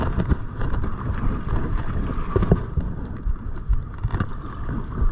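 Strong, gusty wind blows on the shore of the Tweed River, buffeting the microphone with a loud, uneven rumble that rises and falls throughout.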